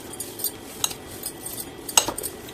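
Chapati dough being mixed in a bowl, with scattered light clinks and scrapes against the bowl and a sharper knock near the end over a quiet background.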